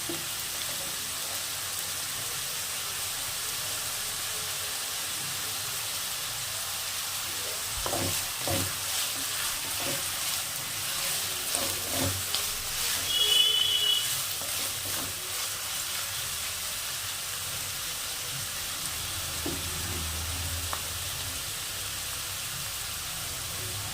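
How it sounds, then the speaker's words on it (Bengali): White cooking oil with a little ghee frying in a pan for a mixed pulao made from leftover rice: a constant low sizzle, with a cluster of stirring clicks and scrapes partway through, nearby and without speech. "সাদা তেলের মধ্যে একটু ঘি দিয়ে ভাজবে"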